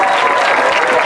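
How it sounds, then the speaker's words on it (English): Crowd in the stands at a high school football event applauds in a brief, steady wash of clapping, loud and continuous for about a second. "How about a big round of applause for Annabella right here next to me?"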